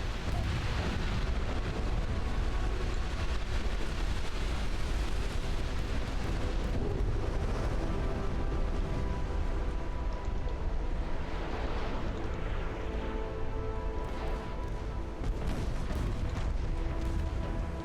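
Naval gunfire in the warship game Ultimate Admiral, a dense, continuous roar of booming cannon blasts over rumbling sea and engine noise, loud and steady throughout with no talk.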